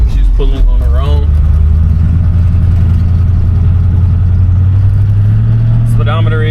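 A 1972 Ford Mustang engine runs steadily with a deep, even low rumble while driving, with someone talking over it at the start and end.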